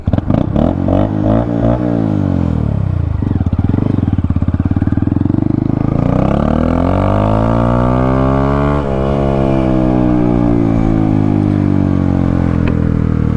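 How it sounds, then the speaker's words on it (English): A Honda Grom with a Zoom Brute exhaust and 14-tooth sprocket revs up and down repeatedly, loud and close, with a raspy, buzzing exhaust tone rising and falling throughout. "here's how my bike sounds right now with the Zoom Brute exhaust and the 14-tooth sprocket"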